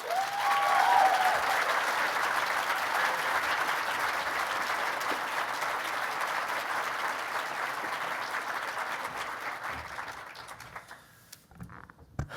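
Audience applause for student leadership award winners at a presentation, a sustained dense roar of clapping that holds steady for many seconds, then fades out near the end.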